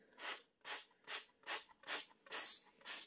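Kitchen oil spray bottle sputtering, seven evenly spaced bursts of hissing spray pumped in a steady rhythm, close and fairly quiet.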